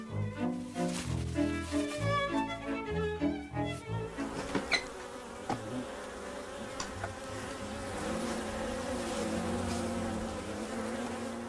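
Bees swarm and buzz around a bee-eater bird in a nature scene: a steady, close drone of many insects that follows a few seconds of plucked, melodic music, with occasional sharp clicks and no voices.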